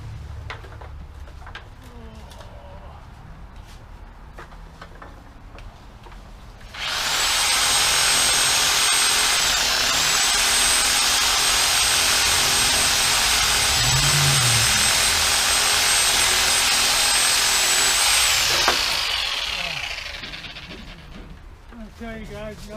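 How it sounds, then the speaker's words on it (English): A Sawzall reciprocating saw trims a tree on a ranch, cutting in with an abrupt, loud, continuous buzzing roar and a steady high whine that lasts about twelve seconds before it cuts off, with quieter outdoor ambience before and after. "nothing in the world like a sawzall"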